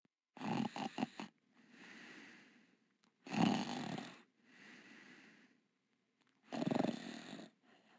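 Manannan, the wizard in the VGA remake of King's Quest 3, snores loudly while asleep on his great bed. Three deep, rumbling snore cycles repeat, each a harsh inhale followed by a softer, breathy exhale, with silence between them.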